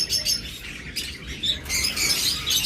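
Caged pet lovebirds and cockatiels at a bird seller's shop chirp in quick, bright bursts, several birds calling close by and overlapping with no talk.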